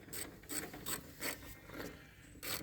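A ratchet clicks in quick, evenly spaced bursts while undoing a nut on the mower deck pulley of a Kubota GR2120. The rhythmic rasping is faint and close, with no talking.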